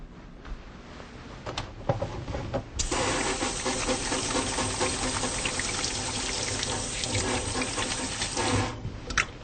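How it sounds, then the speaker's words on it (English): Water from a tap runs steadily for about six seconds as hands are washed before a lung examination, preceded by faint clinks and handling sounds and ending with the flow shut off. "So I'm going to first wash my hands."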